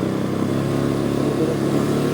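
A motorcycle engine runs steadily close by, a loud continuous drone with a buzzing, even rhythm and no talk over it.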